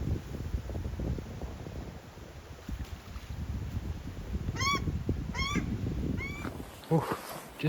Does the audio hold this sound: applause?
no